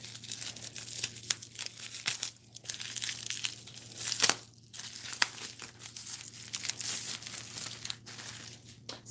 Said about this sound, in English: If I can open this. This is taped really, really well.